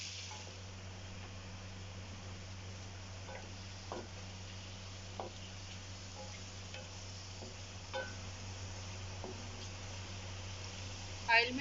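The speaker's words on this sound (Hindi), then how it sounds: "ऑयल में इसको थोड़ा सा भून लेंगे, हल्का सा कलर चेंज हो जाए मटन का" Mutton frying in oil in a karahi gives a steady, moderately quiet sizzle throughout, with a few soft scrapes of stirring rising above it.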